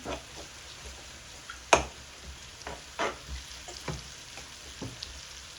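Ginger-garlic paste frying in a pan for egg kottu gives a faint, low sizzle. Sharp tapping and scraping from stirring cuts through it, including one loud clack, and no one speaks.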